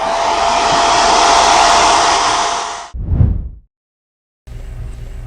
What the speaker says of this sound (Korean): 자, 이렇게 해서 한번 말려주세요.